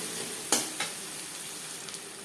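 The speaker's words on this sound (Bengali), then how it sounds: "মাছ ভেজে নেওয়া তেলে দিয়ে দেব পেঁয়াজ কুচি" Chopped onions frying in oil left over from frying fish, a steady sizzle broken by a couple of sharp clinks or stirs near the start.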